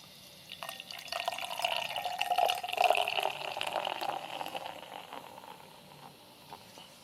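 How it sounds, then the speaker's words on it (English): American wheat beer pours from a bottle into a glass, a close, soft stream that rises into fizzing and splashing for several seconds, then fades to a gentle hiss as the foam settles. "let's pour it."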